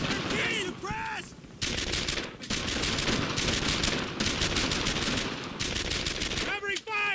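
Sustained covering gunfire in the WWII shooter game Brothers In Arms: Earned In Blood, dense bursts of automatic and rifle fire crackling almost continuously with brief lulls, loud and close, with shouted voices in the mix.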